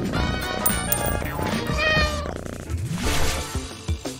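A stray cat meows several times in a row, close and clear, with drawn-out wavering cries and short pauses between them.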